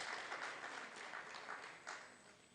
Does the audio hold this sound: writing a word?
no